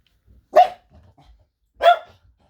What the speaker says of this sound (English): My dogs are in here with me too.